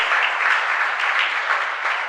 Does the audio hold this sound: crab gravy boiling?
no